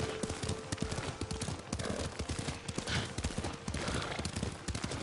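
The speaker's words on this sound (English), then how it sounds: "Lord Sakai taught me to ride a horse." Horse hooves clip-clop rapidly while riding in the video game Ghost of Tsushima, a loud, continuous galloping rhythm that stays up close throughout.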